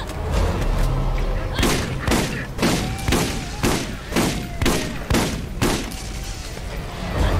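Shotgun blasts in the video game Borderlands, about nine heavy booming shots fired in a steady rhythm roughly every half second, loud and close over a constant game background.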